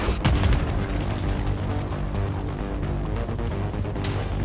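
Mortar explosions and gunfire in a Call of Duty: Black Ops 6 battle, a dense continuous roar of booms and blasts with a heavy impact near the start, loud and sustained without pause.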